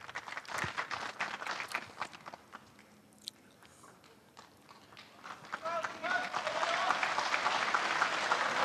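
Snooker crowd at a World Open quarter-final cheering and applauding the return of players on another table, a dense broadband clatter of clapping that dips briefly, then swells louder and steadier toward the end.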